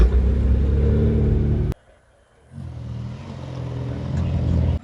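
A BMW M3 on Mulholland Highway revs loudly with a deep, rumbling engine roar. The sound cuts out sharply for about a second, then builds back up into another loud rev.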